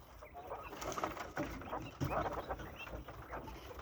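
Quails and chickens in a coop, soft clucks and chirps mixing in a low, faint flock chatter with occasional louder calls.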